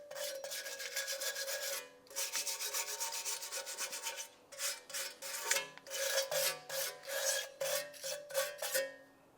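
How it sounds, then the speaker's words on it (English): A wire brush scrubs the brake backing plate of a 1998-2002 Lincoln Navigator in bursts of rapid, harsh back-and-forth rasping strokes, close and steady, with short pauses between passes and no talk. "Let's continue on with a wire brush. We're going to clean up the backing plate."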